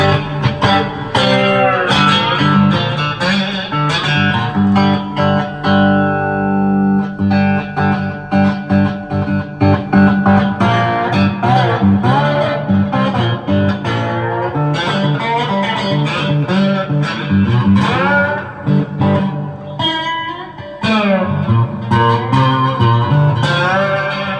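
Loud, distorted electric twang of a cigar box guitar played with a glass slide, gliding notes and rhythmic strums ringing continuously through a cranked amplifier, with no voices.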